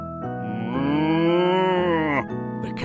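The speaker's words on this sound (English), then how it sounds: "The cows can see Farmer Tubby coming." A single long, loud cow moo, drawn out for nearly two seconds with a rich, wavering low tone.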